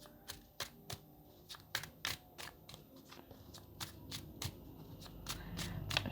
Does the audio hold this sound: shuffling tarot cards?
yes